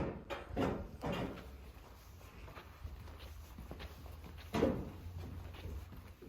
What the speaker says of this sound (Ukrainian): скористаємося цікавою функцією, корисною функцією поворота печі